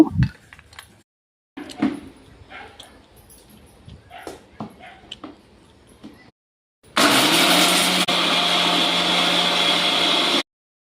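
Assorted kitchen clatter and light knocks, then a loud mixer grinder whirs steadily grinding dry coconut pieces for a few seconds before stopping abruptly.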